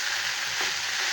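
Poha (flattened rice) is stirred as it fries in oil in a pan, giving a steady, dense, close sizzle with faint scraping from the stirring and no voices.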